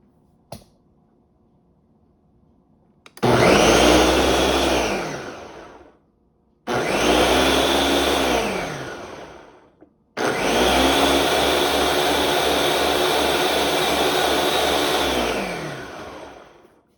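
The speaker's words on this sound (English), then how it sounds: "Put it in my Ninja. hitting the smoothie option here." Ninja blender blending a kale citrus smoothie, loud and close: two short whirring bursts of about three seconds each, then a longer steady run of about six seconds, with silence between.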